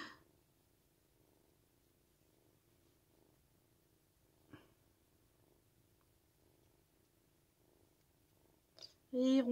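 A cat purrs softly and steadily while lying on a person's chest, very close and quiet. The low, even rumble continues without a break, with a brief tap midway and a sudden loud noise at the very end.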